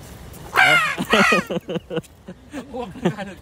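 A voice imitates a crow, giving several loud, harsh caws in a row, then trailing into softer vocal sounds that resemble speech.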